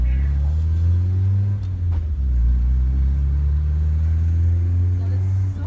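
1983 BMW E21 320i driving, with a steady low engine drone and road rumble heard from inside the cabin throughout, slight shifts in pitch as the car moves, and voices talking faintly over it.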